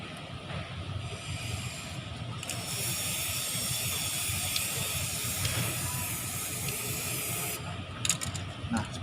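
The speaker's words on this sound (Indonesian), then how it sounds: "Kita semprotnya dengan tipis-tipis saja, menyeluruh di antara" A penetrant aerosol can sprays continuously in thin, even passes over a metal test piece during penetrant testing, a steady close hiss running nearly the whole time with a brief pause near the start and a short break at the end.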